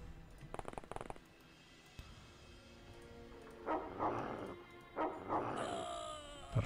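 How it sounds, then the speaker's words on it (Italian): A dog barks in the video game XCOM with The XCOM-Files mod, giving several loud, close barks in quick bursts toward the end after quieter game sounds. "Il cane dov'è? Il cane è qua."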